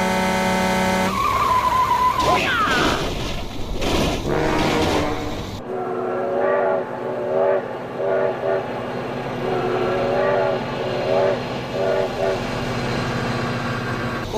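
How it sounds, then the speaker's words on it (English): A train in BeamNG.drive sounds a loud horn and rumbles past near a vehicle, with brief skidding noise and repeated horn blasts over a continuous rolling roar. "Oh my god, train!"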